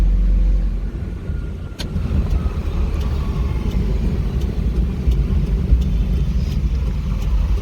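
A 2023 Tata Ace Gold CX petrol mini truck drives along a road with a steady, loud low engine rumble and drone, accompanied by road and wind noise and a few faint clicks.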